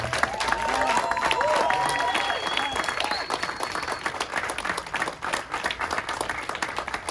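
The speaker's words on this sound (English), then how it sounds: "I want you all to give a round of applause for the trans and non-binary people that are here today." Applause and scattered cheers rise from a crowd at the ribbon cutting of a transgender empowerment center in Hollywood, steady clapping lasting several seconds with voices and whoops mixed in.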